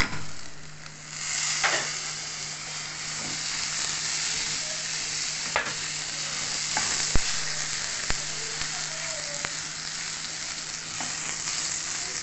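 Washed rice fries with vermicelli in a pan, a steady close sizzle with scattered sharp clicks and scrapes of stirring throughout.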